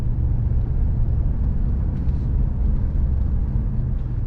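Car driving along a road near Bargara beach, Bundaberg, heard from inside as a loud, steady low engine and road rumble with constant tyre noise and no talk.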